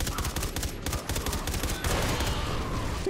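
Rapid gunfire from the video game Far Cry 3 Blood Dragon rattles in dense, continuous bursts, loud and close, with a short lull before the shooting resumes.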